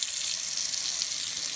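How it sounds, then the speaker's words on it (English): Hot water tap on a Noritz NR66-OD natural-gas tankless water heater system turned on and running, a steady hissing rush of water that is loud and continuous with no voices. "I'm gonna turn on the hot water."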